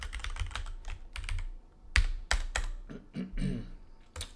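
Close, irregular bursts of keystrokes on a computer keyboard while a checkout bot is being coded, with short pauses between runs of typing and no talking.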